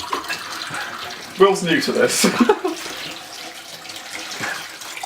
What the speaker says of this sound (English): Fill the kettle.